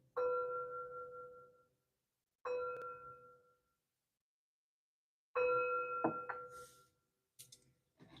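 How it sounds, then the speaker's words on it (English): Three chimes rung one after another with pauses, each bright metallic tone ringing clear and fading slowly, the third followed by a few faint clinks and small handling noises. "3 chimes to bring in positive energy."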